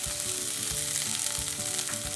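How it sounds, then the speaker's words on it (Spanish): Onion frying in a pan for pineapple chicken makes a loud, continuous sizzle and crackle close by, with light stirring underneath and no speech. "El siguiente paso, a cocinar la cebolla."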